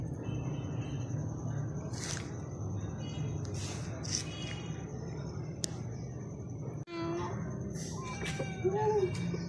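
Chickens cluck and squawk a few times amid outdoor noise and rustling, with a brief sharp cluck near the end.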